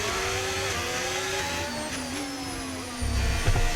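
Formula 1 car in the racing game F1 25, its high-pitched engine whine rising and shifting through gears continuously at steady loudness, with a heavier rumble building near the end.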